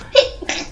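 A single quick sneeze sounds close and loud, a sharp two-part burst lasting under a second.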